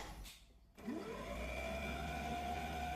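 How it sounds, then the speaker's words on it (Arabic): Home stand mixer kneading bread dough of flour and yeast mixture, switched on after a brief quiet moment, then a steady loud motor whine with rising pitch settling into a constant drone. "وتو نركبوا الماكينة متاعنا ونحطوها تعجن"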